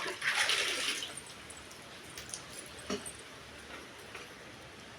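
Water splashing during washing in a home, a burst of pouring and splashing at the start, then faint scattered drips and knocks over a quiet background.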